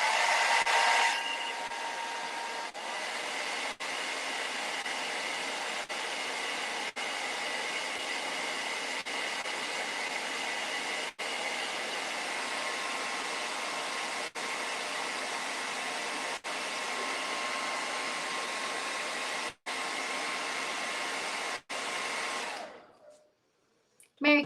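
A hair dryer blows steadily on wet paint for over twenty seconds, a close constant whooshing hiss broken by a few tiny clicks before it cuts off near the end.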